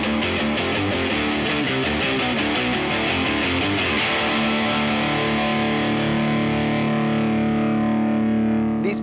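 Heavily distorted electric guitar played through hot Fender Highway One pickups under high gain, with thick, dark rhythmic chugging chords that give way to a sustained ringing chord fading out, loud and alone with no talking.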